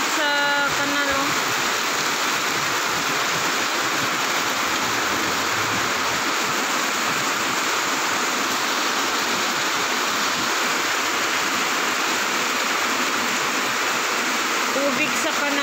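Heavy-rain floodwater rushes hard along a canal in a constant, loud, broadband torrent lasting throughout, close to the listener, with a brief tonal voice-like sound at the very start and near the end.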